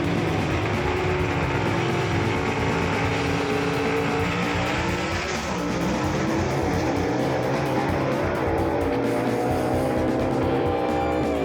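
A gasser drag car roars down the drag strip at full throttle, a loud, continuous, dense engine howl with shifting pitch lasting throughout, no talk over it.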